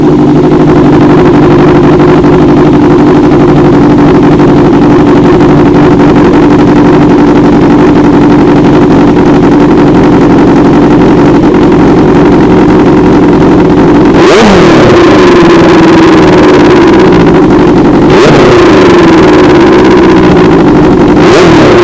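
A superbike with an aftermarket exhaust rumbles loudly and steadily at idle, then is sharply revved twice near the end, each rev rising and falling quickly.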